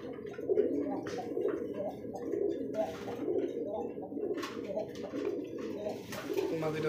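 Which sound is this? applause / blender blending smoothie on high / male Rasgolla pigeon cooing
male Rasgolla pigeon cooing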